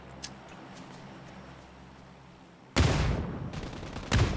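A grenade explodes during a New State Mobile esports league match: a sudden loud, close blast breaks a quiet stretch, with a second burst of noise just before the end.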